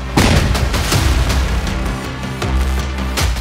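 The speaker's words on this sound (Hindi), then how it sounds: "रात 12:30 बजे का वक्त था जब इस घर में धमाका हुआ।" Deep booming blasts thud repeatedly, a series of heavy explosive bangs with rumbling tails, loud and close, from a house exploding at night.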